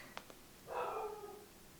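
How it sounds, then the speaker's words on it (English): A dog gives a short, muffled bark or whine from a distance in a quiet indoor room, preceded by a couple of faint ticks. "So yeah, but anyway, that's Eva barking."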